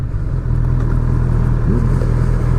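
An old Rolls Royce car passing close by, a steady low engine hum with some clatter, heard over the nearby rumble of a running motorcycle.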